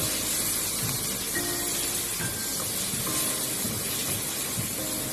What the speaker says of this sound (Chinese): 再快速的翻炒，将猪小肠的水分炒干，再炒出猪小肠里面的油脂